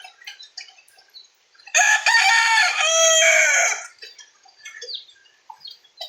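A backyard rooster crows once, loud and close, in a long drawn-out call during a typhoon, with scattered clucks and faint chicken sounds before and after.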